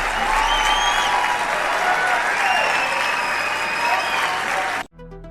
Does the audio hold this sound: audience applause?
yes